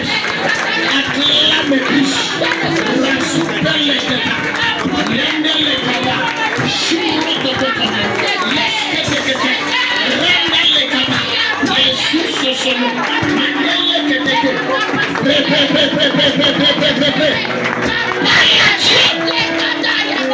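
A church congregation at a worship service for breaking debt curses cheers and applauds in a dense, continuous roar of claps and voices that stays loud and steady throughout, with shouting mixed in.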